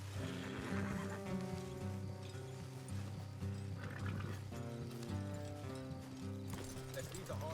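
Horses in the Western video game Red Dead Redemption whinny and their hooves clip-clop on the trail over continuous orchestral score, with game voices speaking.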